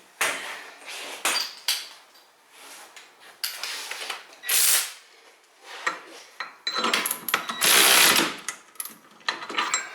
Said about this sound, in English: So now I can just run these bolts in.